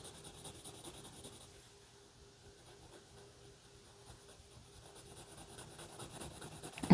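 Pencil scratching and rubbing steadily across paper while drawing a cartoon-style figure, a soft continuous graphite rasp that stays low and close, swelling slightly toward the end with a brief knock at the finish.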